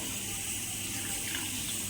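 A brief, steady rush of water poured into a spice paste while cooking a village-style mango fish curry, soft and close, with no voices.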